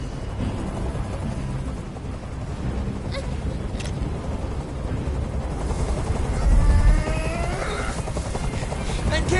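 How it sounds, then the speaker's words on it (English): Helicopter rotor noise in the video game Detroit: Become Human, a steady loud drone filling the whole stretch with a brief swell partway through and faint other sounds on top. "I can't stand that noise anymore. Tell that helicopter to get out of here."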